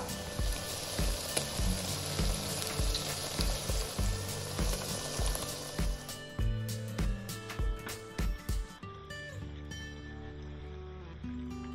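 Ground spice paste frying with mint in a pan for mutton drumstick curry, a steady loud sizzle with scraping stirs and clinks of a spoon on the pan, background music playing throughout.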